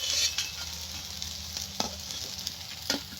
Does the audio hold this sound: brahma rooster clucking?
no